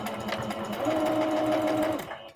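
A sewing machine back stitches along a skirt seam, giving a close, steady motor whir with rapid needle chatter that runs for about two seconds before stopping.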